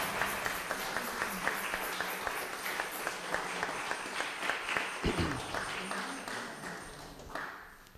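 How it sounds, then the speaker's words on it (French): A Protestant congregation at the Sonnenhof foundation service applauds after worship music, a sustained crowd of clapping with scattered sharp claps and a brief knock midway, thinning out toward the end. "Alors moi je vous invite à vous applaudir quand même."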